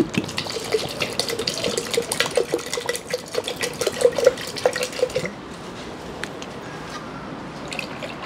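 Water is poured into a thick blended pepita sauce as it is strained for Chiapas-style tasajo, giving close, steady dripping and trickling splashes that ease off after about five seconds into a quieter liquid patter.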